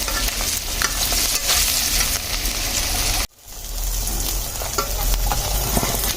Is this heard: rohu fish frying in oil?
yes